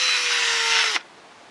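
A drill spins a small brush to clean .223 brass cartridge cases, giving a loud, steady whirring rub for about a second before it abruptly stops and falls quiet.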